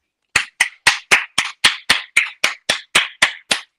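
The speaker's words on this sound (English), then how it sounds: "Wait, that wasn't supposed to be a clapping moment?" About thirteen single hand claps land at a steady, even pace, close and crisp, with silence between them and no talking.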